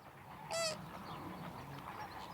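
A single loud honking flamingo call stands out against a murmur of distant bird chatter from a flamingo colony calling across shallow wetland water in southern France.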